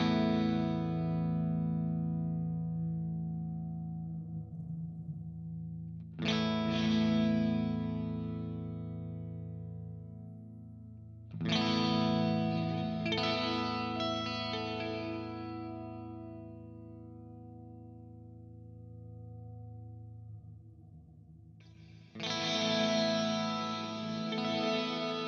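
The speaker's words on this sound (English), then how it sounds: "this is a really great reverb for that." An electric guitar plays through a Kemper Profiler reverb set for a big hall sound: four strummed chords, each ringing out into a long, spacious sustained tail, clear and alone with no talking.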